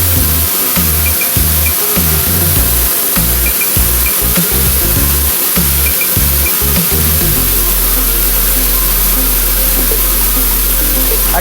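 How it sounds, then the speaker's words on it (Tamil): An egg-hatching incubator's humidifier sprays with a loud, close hiss, pulsing rhythmically at first and then settling into a continuous mechanical rush. "ஹியூமிடிட்டி எப்படி ஸ்ப்ரே ஆகுதுன்னு நீங்கள் பார்க்கலாம்."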